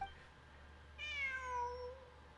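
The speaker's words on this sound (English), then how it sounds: "It really is a cat." A cat in the Genshin Impact video game gives one clear, drawn-out meow that rises and then slides down, moderately loud over a quiet low game ambience, with no talking.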